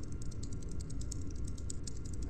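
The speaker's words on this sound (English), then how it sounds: "Oh, it's a walking spider mine!" A walking spider mine in the video game Yuppie Psycho scuttles nearby with a rapid, quiet clatter of tiny ticks and clicks over low background rumble, growing slightly louder at the end.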